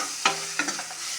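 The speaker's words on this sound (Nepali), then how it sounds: "लगभग अब अन्डा पाकिसक्यो" Egg frying in a pan while being stirred, a steady soft sizzle with a few sharper scraping stirs of the utensil, close and alone with no talk.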